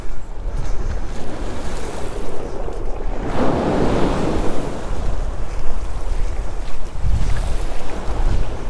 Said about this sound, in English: There was a big wave and the water came up and it went all the way across my shoes